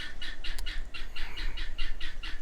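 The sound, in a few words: guinea fowl calling loudly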